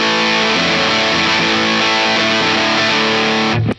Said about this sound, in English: that was my first distortion pedal, the MXR Distortion Plus